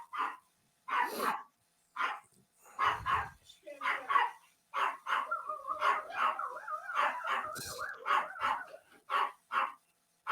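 A man in the background imitates barking dogs with a run of short yips and bow-wows, his voice mixing into the chatter of a podcast discussion about NFL teams.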